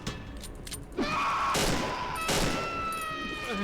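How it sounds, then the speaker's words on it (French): A burst of gunfire in the horror video game Cry of Fear: a sharp rapid fusillade of shots with metallic ringing tails, loud and close, preceded by faint game ambience and no talking. "Alors là, une rafale, ça me suffit."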